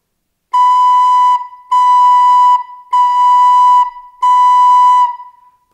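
Four even, sustained notes on B played one after another on a recorder-like wind instrument, clean and close with short gaps of silence between them.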